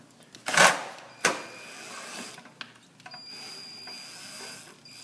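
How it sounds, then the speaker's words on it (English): A gear screw backed out with a Phillips screwdriver during elevator gear removal, giving a few sharp clicks and short ratcheting scrapes at close range, fairly quiet. "Gonna remove the screw and remove the gear"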